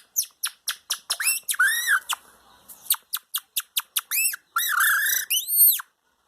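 A person imitating a canary song by blowing across a small plastic strip held against the upper lip, producing rapid series of bright whistled chirps and longer warbling trills in two close, loud phrases with a brief pause between.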